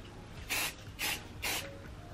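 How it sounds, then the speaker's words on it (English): Three short hissing bursts of light-hold hairspray from an aerosol can, sprayed onto curled hair, evenly spaced about half a second apart and close to the listener, with no talking. "Give it a little bit of a spray."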